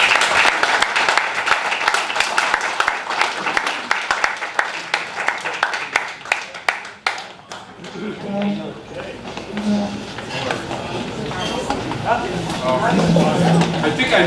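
An audience at a Lockport Township community meeting claps to welcome the chief of police: dense, steady applause that thins out after about seven seconds, followed by someone speaking with scattered sounds from the crowd.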